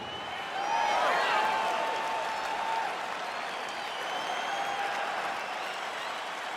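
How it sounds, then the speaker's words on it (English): A virtual arena crowd in EA Sports UFC 4 roars and applauds as a fight begins, a broad, distant wash of cheering that swells early then holds steady, with faint voices underneath. "crowd getting excited as this fight gets underway"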